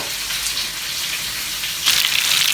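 Garlic sizzles in a hot pan, a steady hissing crackle that swells louder near the end as it is stirred, with no voices over it.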